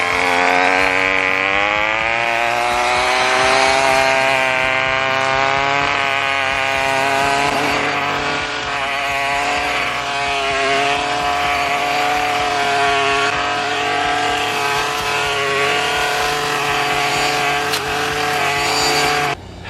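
Two-stroke string trimmer fitted with a Tri-clone head cutting through thick overgrowth and saplings, a loud, close, high-pitched buzzing whine that holds steady and swells slightly as it bites into the growth for about twenty seconds.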